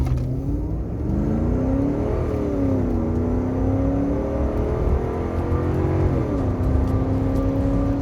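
1992 Mercedes 500E with a 326 hp V8 accelerating hard: loud, steady engine drone with rising pitch that drops at gear changes, heard from inside the car with no talk.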